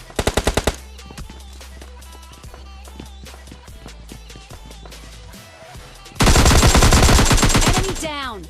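Gunfire in the video game Free Fire comes in loud rapid automatic bursts, a quick volley at the start and a sustained dense burst near the end, with sparse single shots and game sounds between.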